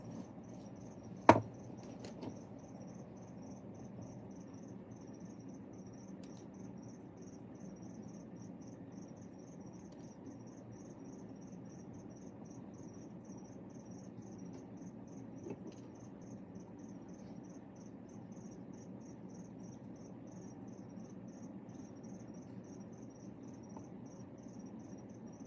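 Crickets chirp faintly and steadily in a quiet setting, forming a continuous high, pulsing trill. A single sharp knock sounds near the start, and there is no speech.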